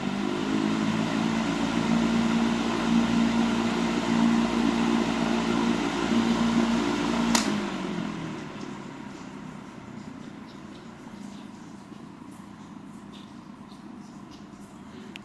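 Electric fan running at speed 3, a loud, steady motor hum and whir that shuts off partway with a click and fades into quiet room tone.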